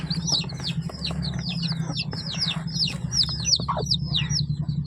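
A crowd of newly hatched chicks in an incubator batch chirps loudly and continuously, with repeated high peeping calls overlapping each other nearby.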